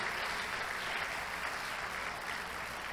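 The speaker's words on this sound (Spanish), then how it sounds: "Dele fuerte ese aplauso" A congregation claps loudly at a church sermon, dense continuous applause filling the whole stretch without any speaking.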